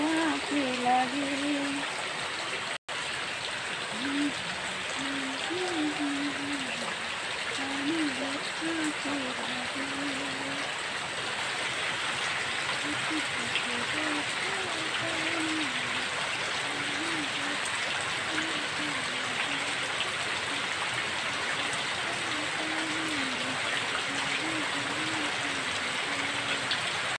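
Steady rain pours down as an even, continuous hiss throughout, while a voice sings softly over it.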